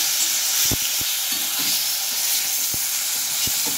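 About 250 grams of sliced onion frying in a pan for chicken kosha, with a loud, constant sizzle and several sharp taps of a spatula against the pan. No one speaks.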